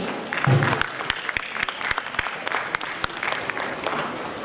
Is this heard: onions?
no